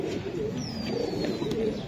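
Racing pigeons, a cock and hen for sale, coo softly and repeatedly close by, their low rolling calls in a steady rhythm against faint background noise.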